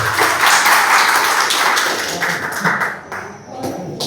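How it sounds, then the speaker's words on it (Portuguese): Applause and clapping from a church congregation for a young man named Mateus, a dense steady patter of hands lasting a few seconds and thinning toward the end. "Uma salva de palmas para Mateus"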